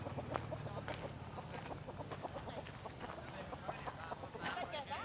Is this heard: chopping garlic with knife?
no